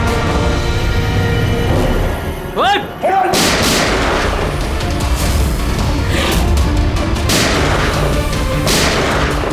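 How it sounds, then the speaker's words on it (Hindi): Loud bursts of gunfire from a crime TV drama crack and boom repeatedly over a dense, chaotic background, with a brief rising whistle-like tone partway through. "ऐसी गोली चलाते रहो तो बहुत देर हो जाएगी सर"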